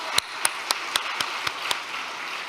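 An audience applauds the True Parents at a church service, with sharp, spaced claps standing out over a soft, steady wash of clapping from a gathered crowd.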